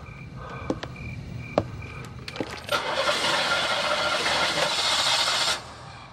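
A car engine cranks over and over without catching, a steady whirring grind that follows a few sharp clicks. It holds for about three seconds, then cuts off abruptly.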